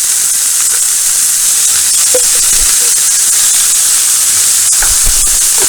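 Chopped onions and a spoonful of garlic sizzle loudly in a hot pan, a dense, constant hiss close up with faint scattered pops and no speech.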